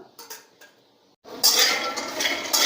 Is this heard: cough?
no